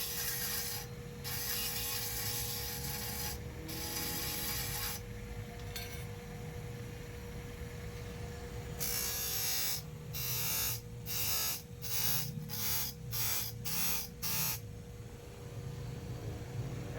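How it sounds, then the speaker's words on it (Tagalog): Harsh, rhythmic rasping of a file sharpening the metal teeth of a hand saw, steady at first and then in quick short strokes near the end, with no talking. "whole process po ito ng paghasa at pagbuka ng lagari"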